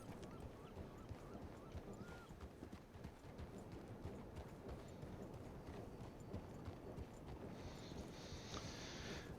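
Horse hooves clip-clopping steadily along a trail near a mining area, a continuous rhythmic patter under a constant wash of outdoor background noise, with faint honking bird calls near the end.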